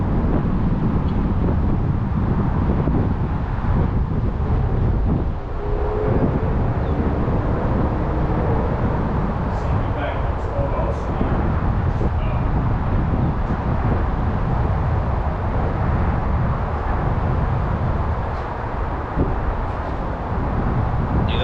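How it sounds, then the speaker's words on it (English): Steady breezy wind blowing outdoors at sunset at Ridge Hill in Yonkers, New York, a continuous loud rushing roar buffeting the microphone with faint distant traffic-like rumble underneath. "Getting more breezy, getting chillier because the sun not here no more."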